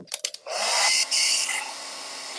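A hair dryer blows steadily on fresh paint on a pumpkin, a loud continuous whoosh with a brief dip in the middle, preceded by a few short handling clicks.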